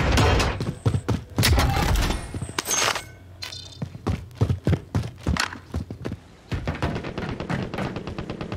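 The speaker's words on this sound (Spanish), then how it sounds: "Es allá disparos. Se están dando allá." Gunfire in a team shooter video game, a scattered run of sharp broadband shots with game effects in between, some bursts close and loud and others more distant.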